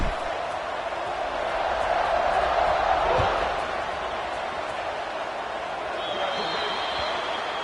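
A football stadium crowd buzzes after a score at a Syracuse game, a broad steady murmur with a brief swell of cheering, while a commentator talks over it.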